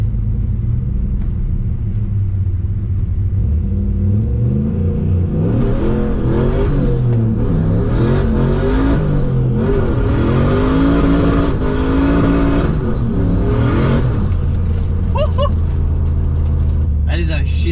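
RB30-engined VL Commodore accelerating hard with traction control off, a loud rumbling engine rising and falling through revs over several seconds, close and continuous with road roar throughout.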